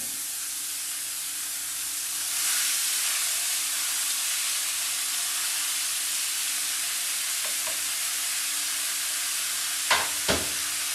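Salted onions hit a pan and start a steady, soft sizzle that keeps on for several seconds, with two small utensil knocks near the end, for a cheeseless quiche.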